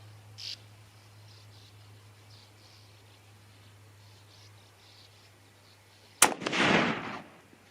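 A single rifle shot, from a .30-06 or .308, fired outdoors: one sharp loud crack followed by a rolling echo that fades over about a second, after a quiet stretch with a faint steady hum.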